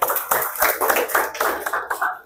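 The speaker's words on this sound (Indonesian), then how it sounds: "tepuk tangan dulu" A class of schoolchildren clapping their hands, a short burst of several uneven claps close by in a classroom, with no talk over it.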